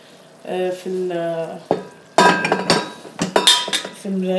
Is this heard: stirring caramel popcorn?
yes